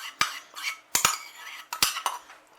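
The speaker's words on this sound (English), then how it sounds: "And you want to whisk it real quick." A whisk clinks sharply against a bowl while beaten egg yolks are worked into a thickened caramel mixture for a banana caramel tart. Four or five close, bright taps come in uneven bursts with soft scraping between them, and no voices are heard.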